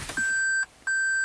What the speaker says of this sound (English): And you have this beep inside, but you can't really hear the beep outside.